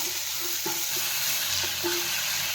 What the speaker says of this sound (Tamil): கடலப்பருப்பு போட்டோன்னே நம்ம கட் பண்ணி வச்சுருக்க வெங்காயத்தையும் அதில் போட்டு வதக்கிக்கணும்